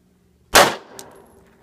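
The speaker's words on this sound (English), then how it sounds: "Now I'm going to shoot it with a 9mm." A single 9mm pistol shot fired point blank into a solar panel: one sharp, loud crack with a brief metallic ring, followed by a faint tail and a small knock, with no voices.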